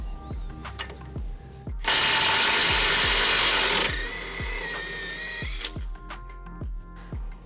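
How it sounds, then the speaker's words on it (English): Ratchet and 17mm socket working the lower shock mount bolt on an NA Miata during a Koni suspension install: rhythmic metallic clicks, close and clear, broken by a two-second burst of loud hissing noise. "And now with a 17mm socket, we'll remove the lower shock mount."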